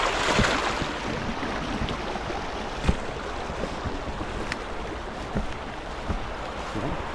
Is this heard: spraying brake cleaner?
no